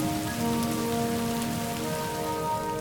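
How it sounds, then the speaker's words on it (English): Rain falls steadily onto a surface, a dense continuous patter of raindrops, even and fairly loud throughout with no voices. "water started forming clouds, which finally rained down onto the surface of Earth"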